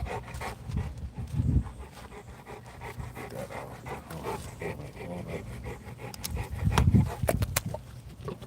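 A Presa Canario dog pants heavily and close by, rapid breathy huffs in bursts with rustling and movement noise between them.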